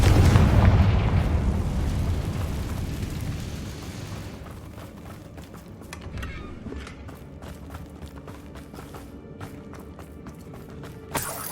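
Spell blasts such as Confringo explode in Hogwarts Legacy: a heavy boom opens, then a long rumbling tail decays, with sharp crackling impacts and debris scattered through the rest and a small thump at the end.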